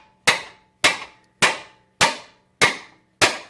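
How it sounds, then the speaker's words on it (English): A hammer striking the lower control arm of a 1995 Ford Mustang GT to loosen it, giving six sharp, loud metallic blows at an even pace of about one every half second, each fading out quickly, with no talking. "I take a hammer and beat it"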